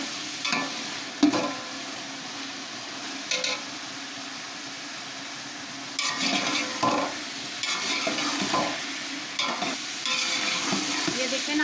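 Masala with peas being stir-fried for chicken Chinese pulao, a continuous close sizzle broken by repeated spoon scrapes and clanks against the pan at an irregular rhythm, with no talking.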